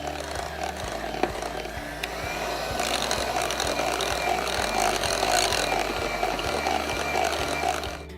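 Coconut oil brownie batter gets a quick whisk in a bowl, giving a close run of rhythmic scraping strokes and light taps that grows a little busier partway through.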